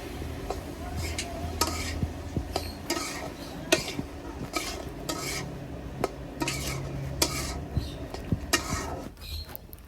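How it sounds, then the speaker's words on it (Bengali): Flat beans (shim) being stir-fried in a pan, a spoon scraping and clinking against the metal in an irregular rhythm over a low background sizzle, close and moderately loud. "তো এটার পরে আমি সিম ভাজি উঠাই দিলাম"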